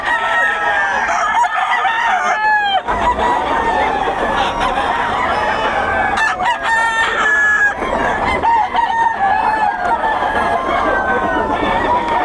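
Several roosters crow loudly and repeatedly over steady hen clucking at a crowded poultry gathering in Bocaue, with faint voices in the background.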